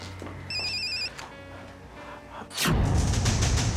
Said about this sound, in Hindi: प्लीज देखना किसका फोन है।